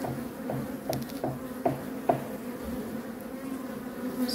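Honey bees buzz steadily around an open top-bar hive during a May inspection near a reservoir, a dense close drone with occasional light knocks of hive handling and no talk.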